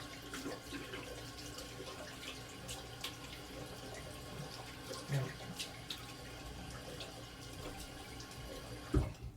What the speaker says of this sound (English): Switch to cold water, let it run until it's cold.